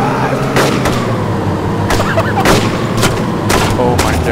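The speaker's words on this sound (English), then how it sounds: "Gunshots." Gunfire rings out in the video game DayZ as a bus is driven through Chernogorsk, several loud sharp shots cracking irregularly over a constant engine rumble close by.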